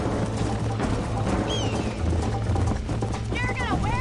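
Horse hooves gallop in a rhythmic, steady clip-clop in the video game Red Dead Redemption, moderately loud throughout, with voices talking over the hoofbeats.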